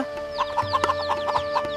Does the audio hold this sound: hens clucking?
yes